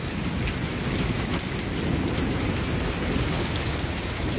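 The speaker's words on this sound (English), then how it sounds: "It's just really, really, really, really... heavy rain." Heavy rain pours steadily during a severe storm, a dense, loud, unbroken hiss of drops hitting surfaces close by, with no voices.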